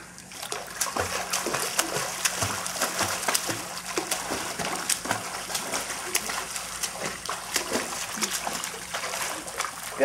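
A child swimming in summer water, steady splashing and sloshing strokes throughout, fairly close and loud, with brief voices nearby.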